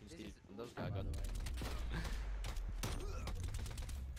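Heavy gunfire from an LW3 Tundra sniper rifle in a video game, with loud booming shots that overlap into a dense, continuous barrage of game combat sound while a voice talks over it.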